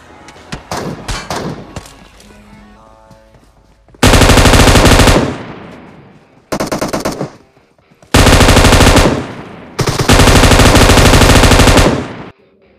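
Loud bursts of M249 light machine gun fire in the mobile shooter PUBG Mobile, several sustained automatic volleys separated by short pauses, close and dominant with metallic clanks between bursts.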